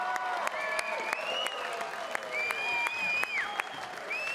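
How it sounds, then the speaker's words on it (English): A crowd at a boxing match applauds the two fighters at the end of the bout, a steady wash of clapping with whistles and cheers over it. "please, a round of applause to these two fighters."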